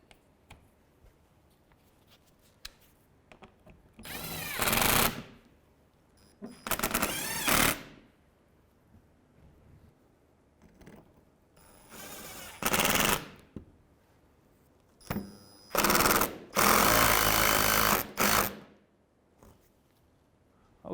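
A power tool drives a 10mm bolt into the front of a 2015-2019 Hyundai Sonata during A/C condenser replacement, firing in several short, rapid rattling bursts separated by quiet pauses, close and loud.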